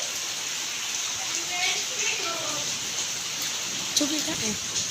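Rain falls steadily outdoors on a rainy day, a continuous close hiss that runs throughout while a person stands out in the downpour, with faint voice-like tones beneath it.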